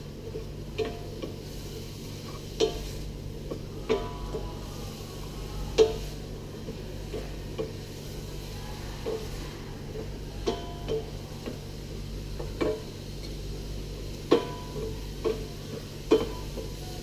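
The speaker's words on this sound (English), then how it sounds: "It's very important when sauteing that you continuously move the onions or whatever you're sauteing in the pan." Onions sautéing in a pan over high heat, a quiet steady sizzle with periodic soft clicks and taps from stirring, fairly faint and without voices.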